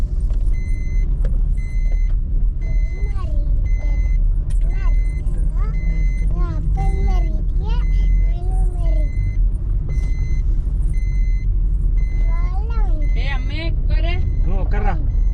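A car driving on a rough road near Mettur Dam, Salem, its underside knocking and scraping against the ground under steady engine rumble, with people talking throughout.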